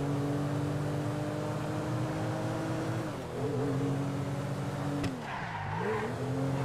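Racing engines whine and tires skid and squeal in a road-rage driving video game, one car engine droning steadily up close with pitch dips and a sharp screech partway through.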